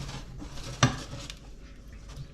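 Eggs being mixed with cold butter in a pan for scrambled eggs, with soft scraping and stirring and one sharp utensil knock against the pan partway through, over a low steady background.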